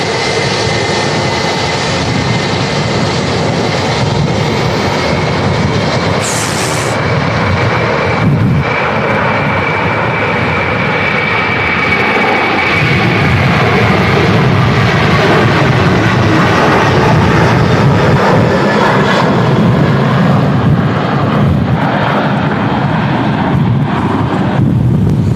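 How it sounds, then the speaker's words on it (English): An Aer Lingus Airbus A330-300 jet takes off in a strong crosswind during a storm at Manchester Airport, its engines roaring steadily and loudly throughout, with heavy wind buffeting the microphone. "Aer Lingus A330 300 heading off to Orlando."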